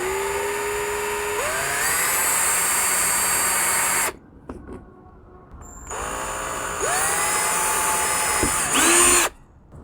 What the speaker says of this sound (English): this is the first time I'm going to drill into my new car